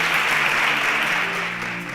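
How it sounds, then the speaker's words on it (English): Dense, steady audience applause fills the studio as contestants of a children's competition leave the stage, loud and even for the whole stretch with no talk over it. "A round of applause for them as they exit the"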